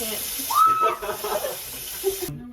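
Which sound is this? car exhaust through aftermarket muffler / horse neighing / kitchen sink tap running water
kitchen sink tap running water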